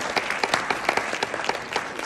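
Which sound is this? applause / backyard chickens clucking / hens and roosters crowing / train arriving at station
applause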